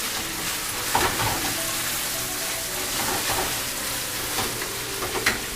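Green chillies frying in chilli beef sauce in a hot pan, a loud, continuous close sizzle with occasional stirring scrapes and spatters, no voices.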